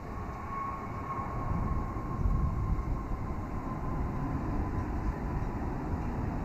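A Boeing 787 Dreamliner arriving from Tokyo passes as a steady broadband roar with a faint whine, heard from a distance and holding constant with no talking.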